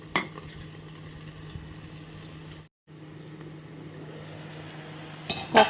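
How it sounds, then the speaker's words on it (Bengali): Mustard paste with salt and turmeric frying in a pan, a steady low sizzle with a constant hum beneath, broken by a brief silent gap and a few louder scrapes of a utensil near the end. "এখন শুধু একটু নুন দিয়ে আমি জিনিসটাকে ভাজা ভাজা করে নিচ্ছি"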